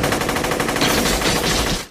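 Rapid automatic gunfire from a shootout scene in the film The Matrix, a loud, dense stream of shots that barely lets up and fades out at the end, with no talk over it.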